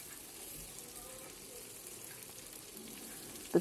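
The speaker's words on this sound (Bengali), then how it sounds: "এখানে ওই যে চিকেনগুলো ফ্রাই করে নিচ্ছি একেবারে আলুর সাথে।" Chicken pieces frying together with potatoes and chopped onions in a pan, a steady low sizzle throughout with a faint watery hiss, ending in a short clatter, no voices.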